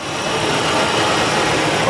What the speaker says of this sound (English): now we started up the engine